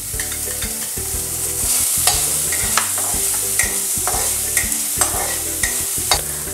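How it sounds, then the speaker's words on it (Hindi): Chopped onions go into a pan of butter and ginger garlic paste and are stirred, a continuous sizzle broken by rhythmic spoon scrapes and light clinks against the pan, with no talking. "अब हम इसमें अनियन डाल देंगे।"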